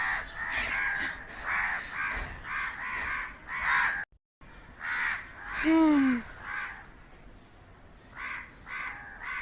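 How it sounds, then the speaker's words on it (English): Several crows in a cartoon caw repeatedly in short harsh bursts, loud and close, one brief gap of silence midway and then more cawing from the flock. "So many crows."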